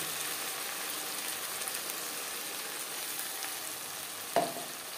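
Onion, ginger paste, green chili paste, peas and tomato paste sizzle and fry steadily in a pan, a constant broadband hiss with one brief sharper clatter near the end; no voices.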